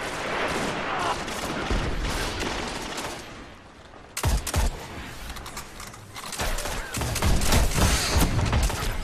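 Video game gunfire from Destiny: The Taken King in the Iron Banner mode, with dense rapid bursts of shots, a brief lull, then heavy volleys and thuds that return loudly.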